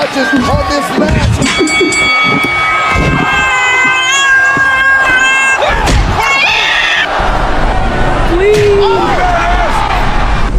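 A cat meows several times in a drawn-out, rising and falling way, loud and close, over busy background thumps and voices.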